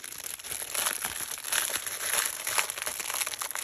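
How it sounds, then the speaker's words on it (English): A plastic packet holding diamond painting drills crinkles and rustles steadily up close for several seconds as it is handled and opened, with no talk over it. "So excuse the rustling packet."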